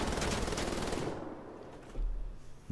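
Rapid automatic gunfire from enemies in the video game Wolfenstein The Old Blood, a loud dense burst that fades out after about a second, followed by a low rumble and another short burst near the end.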